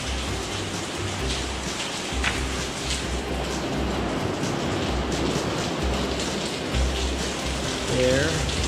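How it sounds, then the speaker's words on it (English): Steady rain falling outdoors on a December morning, a dense continuous hiss of drops on surfaces with a low rumbling undertone, unbroken and fairly loud throughout, with a brief faint tonal sound near the end. "The rain has not stopped since yesterday."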